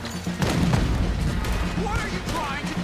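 Cannon blasts and rifle gunfire from a hillside fort battle in Red Dead Redemption 2, dense overlapping booms and shots filling the scene while voices talk over the fighting.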